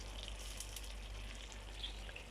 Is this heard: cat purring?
no